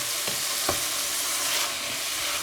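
Chopped vegetables with a pinch of salt fry for a lasagna meat sauce, a steady close hiss of sizzling oil with a few soft stirring scrapes in the pan.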